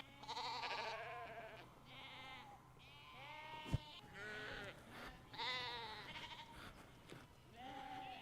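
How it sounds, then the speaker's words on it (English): A flock of ewes and lambs bleats repeatedly in a field, with overlapping calls of varied pitch, some near and some farther off, and a brief sharp knock in the middle. "So that is all the ewes and lambs out of the old field."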